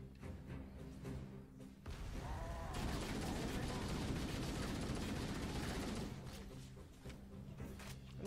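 Gunfire in the Halo video game: a dense, sustained burst of rapid shots lasting several seconds, with a voice speaking just before and after.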